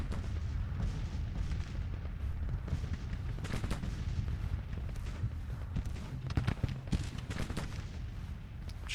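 Artillery fire in Grand Tactician: Civil War, a battle game set at Springfield, comes through as continuous low rumbling booms and crackling volleys at mid distance, with a few sharper reports near the end.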